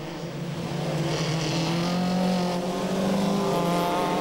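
Procar touring race cars, the under-2-litre class, roar past the pits at Zolder in the 1994 Belgian season finale, with loud overlapping engine notes climbing and sustaining steadily through the whole stretch.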